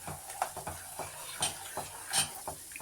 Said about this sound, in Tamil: சர்க்கரையை சேர்த்து மிக்ஸ் பண்ணி விட்டுக்கலாம்